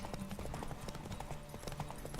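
Rapid clip-clop of a galloping horse in The Witcher: Wild Hunt, quiet and steady hoofbeats running under soft game music.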